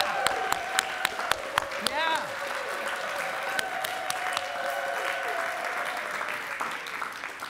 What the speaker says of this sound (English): we could have some thunderous, appreciative academic applause and maybe some screaming.